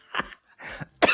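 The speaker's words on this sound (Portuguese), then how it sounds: "olha a tosse aí." Three quick coughs, close and fairly loud, separated by brief pauses.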